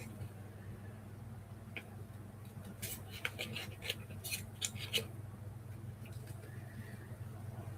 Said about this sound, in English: Using your wire cutting scissors for cutting cardboard's probably not a good idea.